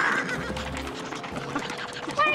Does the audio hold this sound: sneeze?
no